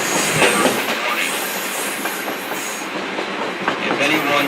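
A South Simcoe Railway heritage train runs along the rails near Beeton Bridge, a loud, dense rolling clatter of wheels with scattered metallic clicks and squeals continuing steadily throughout.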